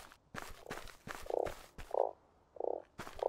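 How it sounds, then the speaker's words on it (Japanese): Frog croaking in the desert survival game Starsand, four loud, evenly spaced croaks close by, separated by soft footstep-like thuds and quiet game ambience. "カエルがいる。"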